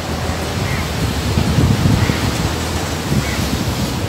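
Waves wash steadily onto Somatheeram Azhimala beach, heard as a loud, continuous surf roar that swells gently, with wind buffeting the microphone and no voices.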